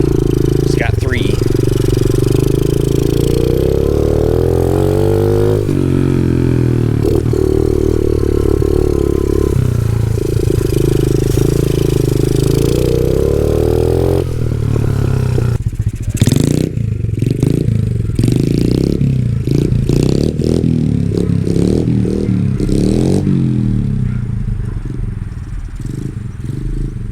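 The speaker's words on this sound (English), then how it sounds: "Again, we're one-handed riding here. It's just in second gear." A Honda CRF 50 dirt bike runs steadily in second gear, its small engine droning and shifting pitch as the revs rise and fall. A voice talks over it throughout.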